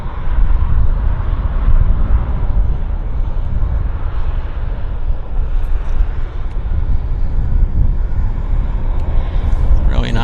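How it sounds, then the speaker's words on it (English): A passenger airliner lands and rolls out at Vancouver Airport, giving a loud, steady engine roar and rumble that holds without a break from start to finish, with a voice faintly under it. "Nice rollout. Again, textbook landing."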